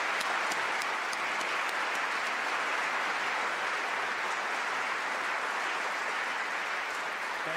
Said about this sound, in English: Please join me in giving him a warm applause.